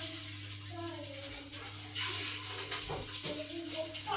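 Water running and splashing while children's bicycles are washed at home, a steady wash of spray and trickling throughout, with faint background activity.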